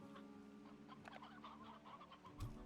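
Soft clucking of chickens in the video game Slime Rancher 2 comes through faintly over a steady low hum, with a few short bursts and a brief louder thump near the end.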